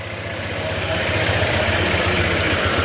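A Honda ADV160 scooter at 31,941 km idles steadily and closely, its engine giving a continuous low throb with a faint rattling, ticking edge running through the whole stretch.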